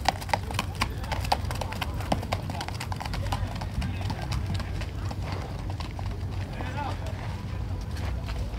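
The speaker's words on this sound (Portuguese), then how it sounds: "esse é um cavalo diferenciado aqui na feira" Horse hooves clip-clop in a quick, steady rhythm on hard ground at a Mangalarga horse fair in Caruaru, close and continuous, with voices talking nearby.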